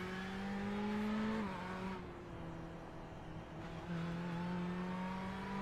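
Ferrari Challenge race car lapping Spa from a roll-bar camera, its engine a loud, steady drone that drops in pitch under braking into a corner and then builds again as it accelerates out.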